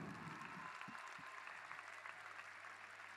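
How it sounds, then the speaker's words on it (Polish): Faint applause at a Polish church gathering led by a bishop, a steady distant patter of many hands that holds evenly throughout, with no voices standing out. "Wielkie brawa dla Chrystusa."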